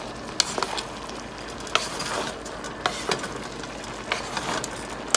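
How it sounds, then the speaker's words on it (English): Chopsuey cabbage and mixed vegetables being stirred in a hot pan, a steady sizzle with scraping, clacking stirs at irregular intervals, close and alone. "we need to mix again, making sure the top other cabbage ingredients will be cooked."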